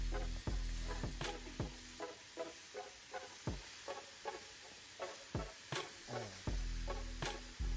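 Banana slices sprinkled with sugar caramelize in a pan, giving a soft steady sizzle with a faint hum, broken by light, regular taps and scrapes of a utensil.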